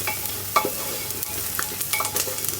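Onions and lentil dumplings frying in oil inside a pressure cooker, giving a steady close sizzle broken by scattered clinks and stirring scrapes.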